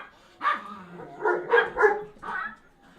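A dog gives a few short barks and yips in quick succession, moderately close, with no talking over them.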